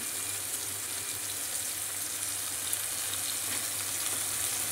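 Potatoes, onions and soybean chunks fry together in a pan, giving off a steady, even sizzle that holds at a constant level throughout and stands alone without any voices.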